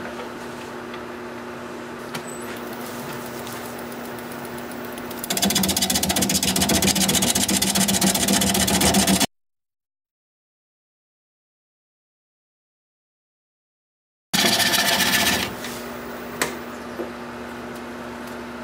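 An alder bowl spins on a wood lathe, making a steady motor hum with a tonal whine that grows louder and rougher during cutting. The sound cuts out completely partway through, then the hum resumes.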